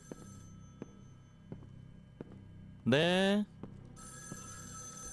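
A brief electronic telephone ring in the video game Evil Inside sounds once over faint steady hum and regular soft clicks; a voice speaks briefly.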